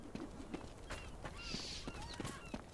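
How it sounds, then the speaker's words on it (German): Horses gallop in the video game Chivalry 2, with faint, rhythmic clip-clop hoofbeats amid battle noise and scattered clanks, quiet throughout. "Oh, da kommen welche mit Pferden."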